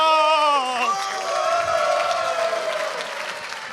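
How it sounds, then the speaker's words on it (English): A conference crowd in Berlin at the Firebase Dev Summit 2016 bursts into applause with loud whoops and cheers at the start. The cheering fades into sustained, full-room clapping. "Let's welcome the live stream with a round of applause."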